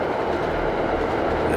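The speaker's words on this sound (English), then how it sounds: "I laugh as the train passes by." A train passing by in the 2016 remake of the PC game Downfall, a steady loud rumble with a dense rolling rush throughout and a faint squeal near the end; no voices.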